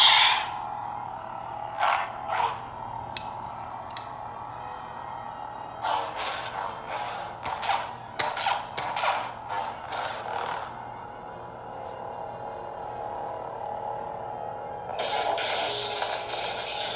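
A custom Korbanth Obi-Wan Kenobi lightsaber replica hums steadily, with swishes and brighter surges as it is swung and clashed, followed by a rising ignition-like sweep near the end.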